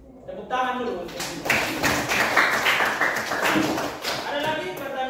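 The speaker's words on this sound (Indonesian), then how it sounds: "Oke, tepuk tangan dulu." Classroom applause during a Catholic religious education lesson, a burst of clapping that builds and carries on for several seconds, with a teacher's voice talking over it.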